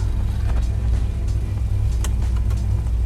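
A 1965 Dodge Coronet 500 pulling away on a drive, a steady, close, low engine rumble with no talking.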